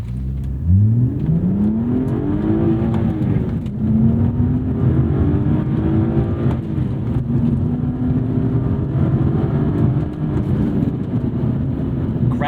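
A BMW accelerates hard at full throttle, its loud engine note climbing steadily in pitch with a brief break partway through, heard from inside the car with no talk.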